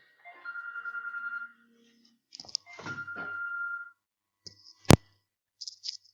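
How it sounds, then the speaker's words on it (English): A mobile phone rings with a couple of electronic tone bursts, followed by a sharp click or thunk and short beeps as it is silenced, with no talking. "sorry about that, that was my phone."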